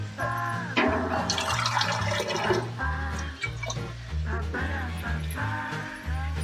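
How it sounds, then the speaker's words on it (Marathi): Half a glass of water is poured into a potato curry in a pan, with a gurgling splash and bubbling liquid noise, close and continuous, with clinks of utensils. "आणि आता अर्धा पेला पाणी टाकते."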